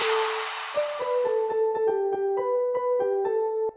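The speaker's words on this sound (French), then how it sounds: "ces petites keys un peu guitare, je l'ai pris chez Pandora." Guitar-like synth keys from a Pandora sample play a plucked melodic pattern of about a dozen quick notes in even rhythm, fairly dry with little reverb, alone after a brief noisy swell at the start.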